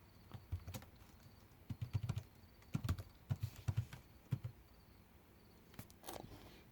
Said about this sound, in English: So I'm gonna set this down so I can enter the password real fast